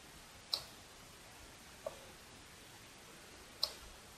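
A few faint, isolated clicks of a computer mouse, spaced well apart in a quiet room, with no voices.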